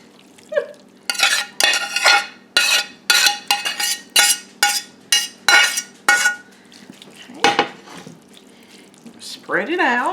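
Spoon scraping and clanking against a pan while a zucchini and ground beef casserole is scooped in, about a dozen rhythmic, close, sharp scrapes; a voice speaks briefly at the end.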